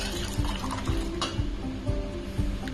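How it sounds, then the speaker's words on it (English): Cooked pumpkin and orange vegetables for a shorba are tipped into a blender jar, giving soft wet plops and a few light thuds against the jar, with sloppy, squelchy movement throughout and no talk. "So now I'm transferring them into a blender"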